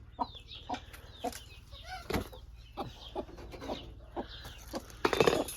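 Several bantam Cochin chickens clucking close by in short, scattered bursts, with occasional higher squawks and a brief flurry near the end.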